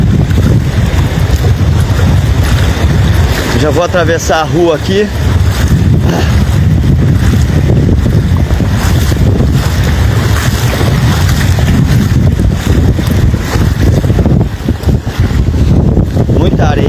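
Strong wind roaring across a flooded Lagoa dos Patos shoreline at Arambaré, a loud, constant blustery rush battering the microphone, with a person talking through it.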